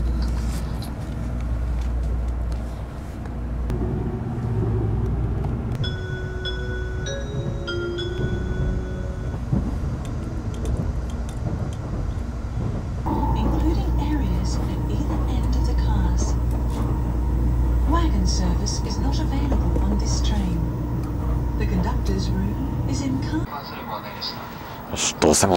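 A Japanese train bound for Mishima is ready to depart from a station, with a steady low engine and rail rumble, bright tonal chimes partway through, and a voice speaking over the noise.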